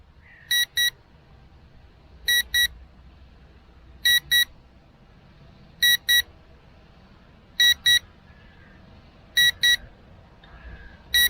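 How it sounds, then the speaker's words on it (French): An Eachine EX5 camera drone, a DJI Mavic Mini clone, beeps during return-to-home. Sharp paired electronic beeps repeat about every two seconds over a low steady background rumble. "je ne sais pas s'il bip parce que l'autonomie est réduite ou s'il bip à cause de son RTH"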